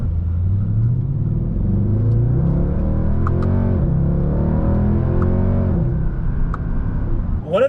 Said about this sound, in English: One of the great things about driving a car with the V8 is you get the noise in the car